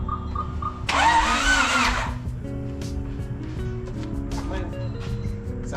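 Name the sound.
car engine with B18B swap cranking and starting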